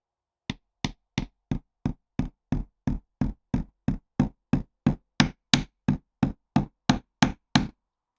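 Rapid, evenly spaced hammer blows ring out, about twenty sharp metallic strikes in a steady rhythm, close and clear with no talk, as a Land Rover Series 2 differential is worked on during a rebuild.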